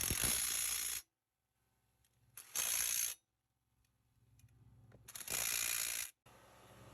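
A ratchet tightens suspension bolts on a 2003–2007 Honda Accord, three loud bursts of rapid clicking each lasting about half a second to a second, separated by quiet pauses.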